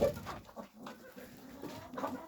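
Soft clucking and gobbling of turkeys nearby, several short calls in quick succession with no one speaking.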